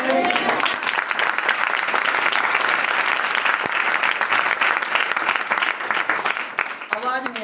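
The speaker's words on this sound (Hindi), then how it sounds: "जोर से ताली बजाओ" A church congregation claps loudly and continuously for about seven seconds in a thick, sustained roar of hands. A voice speaks briefly as the clapping tails off.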